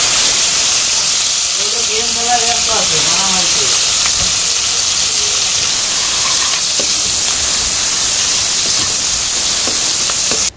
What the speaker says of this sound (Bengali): জিরা দিয়ে দিলাম পেঁয়াজ কুচি দিয়ে দিই